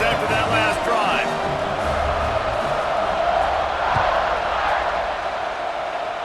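Stadium crowd in the EA Sports College Football 26 video game roaring and cheering steadily as a dense, continuous wash of noise, with a commentator talking over it.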